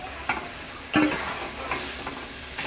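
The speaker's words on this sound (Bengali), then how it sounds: "এবার দেবো কাঁকড়া ঢেলে।" Crab tipped into spice paste frying in a pan and stirred, with steady close sizzling and a few scraping, clattering stirs against the pan.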